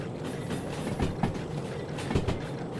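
A small S060 shunting locomotive rolls along rails in the train game Derail Valley, with a steady rumble and rhythmic clickety-clack of wheels over rail joints, fairly loud and close.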